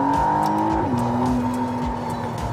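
Hybrid electric supercar engine in sport mode revving up and accelerating, a steady loud engine drone with rising and shifting tone and no talk.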